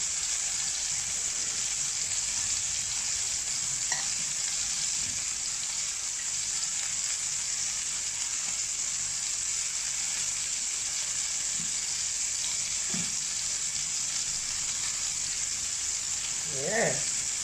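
Chicken pieces fry in hot oil in a pan for a Jamaican chicken soup, giving a loud, steady sizzle that fills the whole stretch, with a few faint clinks and kitchen knocks underneath.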